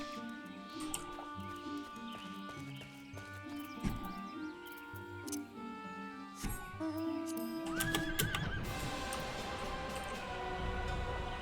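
Horse neighing and hooves clip-clopping in the Final Fantasy XIV video game, a whinny and hoofbeats over tonal game music that swells toward the end, fairly quiet overall.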